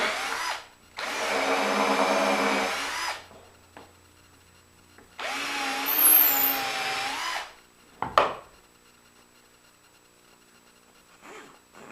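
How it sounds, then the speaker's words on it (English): A power drill fitted with a 1/4 inch bit bores into a wood block in a woodworking shop, giving two sustained whining runs of roughly three seconds each, split by a quiet pause and followed by a short sharp knock. "Switching over to a 1/4, I'll drill it here."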